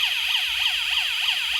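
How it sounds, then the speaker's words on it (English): An office security system alarm from a smart monitoring setup wails continuously in a fast, rising-and-falling siren pattern, loud and close with no talk over it. "this is the alarm."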